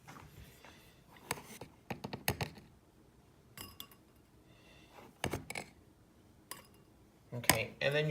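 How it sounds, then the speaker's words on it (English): Spoon stirring a cornstarch mixture in a kitchen dish, heard as scattered clinks and scrapes against the bowl in short bursts, fairly quiet, with gaps between strokes. "then you're just going to stir that up really well"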